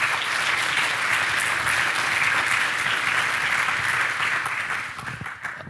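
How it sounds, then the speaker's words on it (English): Sustained audience applause at a keynote conversation of the Wroclaw Global Forum, a dense steady wash of many hands clapping that fades slightly near the end. "Please give us a round of applause."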